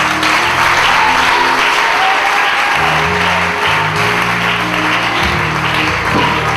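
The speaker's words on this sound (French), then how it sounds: "Est-ce qu'on peut acclamer le Seigneur?" A church congregation breaks into loud, sustained applause and cheering for the Lord, a dense wash of clapping that fills the room without pause.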